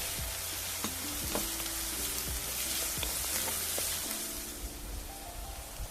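Sliced onions sauté in hot oil in a pan for a Kerala-style prawns roast, a loud steady sizzle broken by the scrape and clatter of a spoon stirring.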